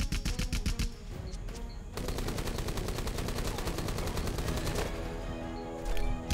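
Mounted gun in Rambo The Video Game firing long rapid bursts, a steady mechanical rattle of closely spaced shots with a brief pause near the start, loud and without talk.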